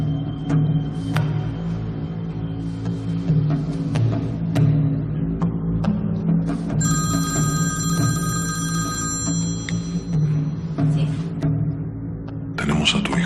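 A telephone rings in a short burst of bright tones midway through, over a steady low drone and a murky, muffled background of indistinct voices.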